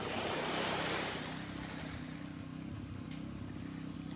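Ocean surf washes steadily onto a beach in Nasugbu, Batangas, Philippines, a broad rushing swell fading slightly, with faint wind in the background and no voices.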